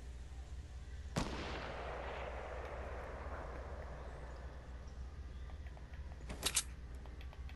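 A single sharp gunshot from the video game Fortnite cracks out loudly, then rings into a long decaying tail over steady background hum, followed by a quick pair of fainter shots near the end.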